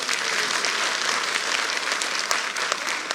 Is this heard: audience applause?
yes